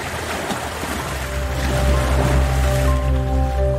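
Ocean waves wash and splash steadily at close range, a broad churning rush of water with a low droning hum running underneath, swelling slightly louder partway through.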